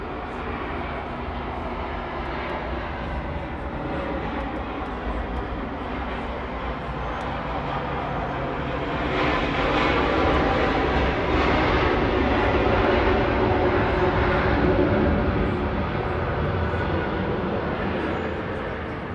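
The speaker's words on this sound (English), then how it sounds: "And we got this Delta plane coming in." A Delta Boeing 737-900ER coming in to land at Atlanta's airport, a loud sustained jet engine roar that builds midway and stays strong, heard from the ground without any talk.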